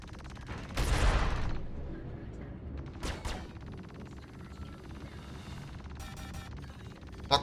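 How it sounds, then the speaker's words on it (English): Ballistic cannons firing in the space game Star Citizen: a loud burst of rapid gunfire, then shorter bursts of shots spaced over several seconds above a steady engine-like hum. "So you see there, ballistic cannons work just as well."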